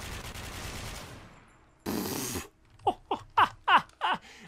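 A short, loud burst of AK rifle fire in the FPS game Warmode, followed by a run of breathy laughing vocal bursts.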